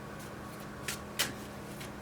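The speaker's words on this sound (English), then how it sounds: "just want to put a little pre-shuffle on the astrology reading cards in case we need them" Astrology reading cards are shuffled softly at close range, with a few brief riffling bursts and light taps over a quiet room hum.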